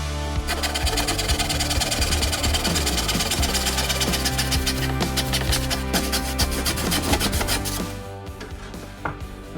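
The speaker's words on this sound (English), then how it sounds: "Figured I'd just cut it by hand." Rhythmic rasping strokes of a handsaw cut through wood, steady and close, continuing for several seconds before trailing off.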